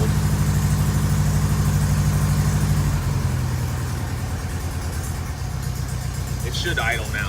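A cold 1974 VW Beetle engine runs on a 6-degree morning, a loud, close, steady air-cooled rumble that shifts pitch partway through, with a brief higher squeal near the end.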